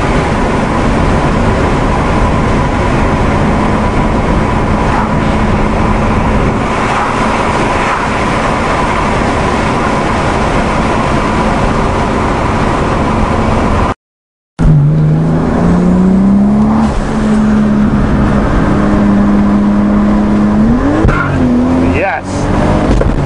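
A 1993 Toyota Supra turbo car roars by loudly, giving a constant heavy engine and road drone. After a short cut, it returns with engine tones climbing and revving as it passes, and people talk at points.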